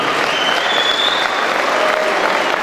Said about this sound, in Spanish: el maestro Rafael Grande Olivares Bazá, para quien pido un fuerte aplauso.